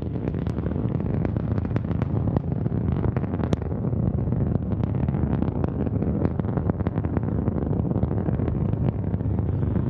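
Antares rocket engines roaring at full thrust during the NG-16 Cygnus launch, a loud, steady, continuous rumble with crackling bursts throughout, heard alone without talk.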